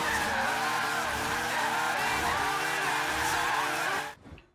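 A car in the racing game Forza Horizon 3 drifts through a corner with a loud, sustained tire squeal over a steady engine drone, lasting about four seconds before it cuts off abruptly.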